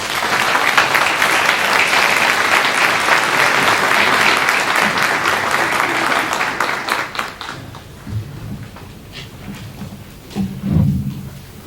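An audience at an MLK Black History convocation breaks into loud, sustained applause that holds for several seconds, then thins into scattered claps and fades into the room's murmur.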